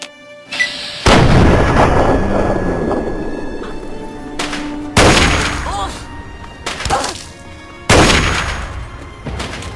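Heavy booming gunshots in Fallout 3 during a sniper rifle fight, three loud blasts each followed by a long rolling tail, with smaller clatter and a faint voice between them.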